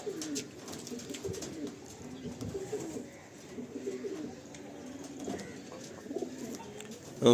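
Adult Madrasi tournament pigeons coo steadily in a loft, soft repeated throaty calls overlapping in a continuous murmur with occasional louder bursts close by.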